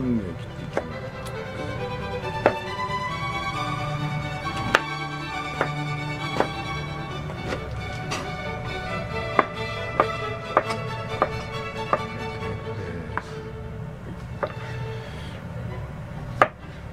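A knife chops food on a cutting board with sharp, repeated taps at an uneven pace, steady background noise underneath, while someone speaks at times.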